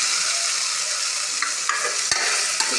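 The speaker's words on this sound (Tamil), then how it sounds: "ஆட் பண்ணி நல்லா வந்து இஞ்சி பூண்டு வந்து பச்சை வாசம் போகிற அளவுக்கு வணக்கி விடுறோம்." Ginger garlic paste sautéing in a hot pan for tomato rice, giving a steady, close, bright sizzle with a few soft stirring scrapes and clicks, no talk.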